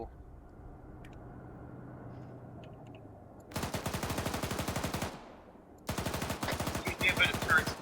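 Automatic gunfire in the Arma 3 military game: two long, loud, close bursts of rapid machine-gun fire separated by a short pause, after a quieter stretch of low engine-like rumble.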